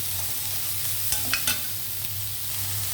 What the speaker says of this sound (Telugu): బీన్స్ క్యారెట్ పచ్చిమిర్చి ఇవి కూడా కొంచెం వేగనిద్దామండి